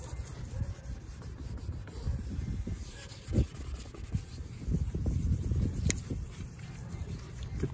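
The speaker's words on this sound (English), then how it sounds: "And as a last step, 2500 grit sandpaper. Very, very fine" Soft, steady rubbing of 2500 grit sandpaper across a plastic headlight on an Infiniti G37, a quiet continuous scratchy hiss with occasional faint knocks.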